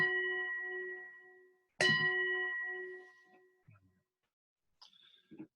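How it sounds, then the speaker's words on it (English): Two ringing chime tones opening a Sunday church service, each struck and left to fade slowly, followed by a few faint soft knocks and a short high ping. "that should begin with the chimes"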